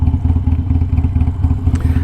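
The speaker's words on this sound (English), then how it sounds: "I love the sound of my Harley." Harley-Davidson motorcycle engine idles close by with a loud, throbbing low rumble in an uneven, loping pulse, steady throughout.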